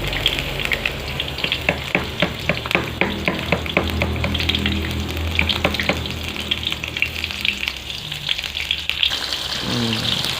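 Chili, shallot, galangal and tomato stir-fried in a pan for a spicy chicken-head asem-asem, with a steady loud sizzle, scraping stir strokes and a few clinks throughout, no talking.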